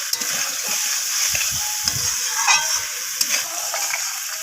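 Vegetable curry with fried eggplant and bori being sautéed in a pan, a steady hiss of sizzling with soft scraping stir strokes and a few light clinks, close and alone.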